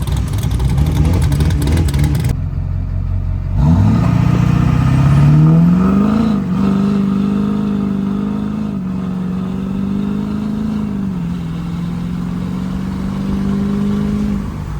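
A pickup truck's Duramax diesel engine revs up with a rising whine, then holds a loud, steady drone close by, settling slightly lower toward the end.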